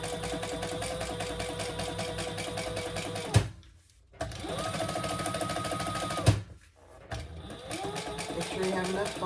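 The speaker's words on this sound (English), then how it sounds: "with your seam allowance going towards the outside, we're going to top stitch" A sewing machine top stitching a crossbody bag with a long stitch length, running steadily and loudly in two brief stops and restarts, each pause marked by a click.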